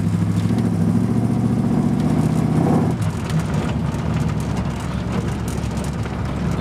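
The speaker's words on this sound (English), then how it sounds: "It is pretty loud. Dual exhaust. It's got glass packs on it." A car engine fitted with dual exhaust and glass pack mufflers, a loud deep rumbling drone from inside the vehicle on a bumpy road, which drops in pitch and eases after a few seconds.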